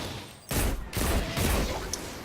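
Sidearm gunshots in the Destiny 2 beta, three or four loud, sharp shots spaced roughly half a second apart, with echoing tails and no talking.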